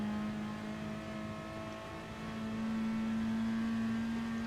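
A race car engine in Gran Turismo Sport drones at steady high revs with a sustained tonal whine, holding a constant pitch through a long straight, loud and continuous with no voices.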